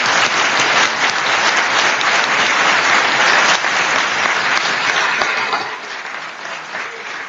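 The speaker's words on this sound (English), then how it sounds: "I think that we should give these 4 candidates a big round of applause." City council meeting audience applauding candidates: steady, loud, dense clapping throughout, easing slightly in volume near the end.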